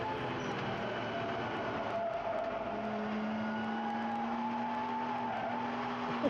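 A GT race car slides through turns 7 and 8 at Sepang during qualifying for the 2023 GT World Challenge Asia. Its engine drones fairly faintly from a distance with a steady pitch that rises slowly.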